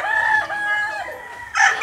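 A rooster, a gamecock, crows loudly and close, one long drawn-out call that rises and falls, followed by the start of another crow.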